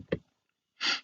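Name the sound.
sniff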